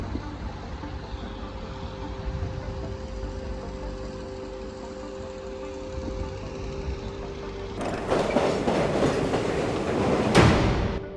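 The EL2 experimental test train rolls along rails with a steady rumbling clatter and rhythmic clicks, growing louder and sharper toward the end as it draws near.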